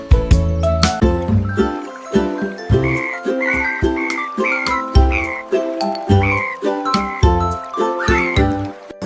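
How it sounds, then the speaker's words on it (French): Bright tinkling, chiming tones repeat in a regular rhythm, a musical frog chorus in a children's song, loud and close with no voices. "Les grenouilles ont commencé à chanter des mélodies qui font chanter les cœurs"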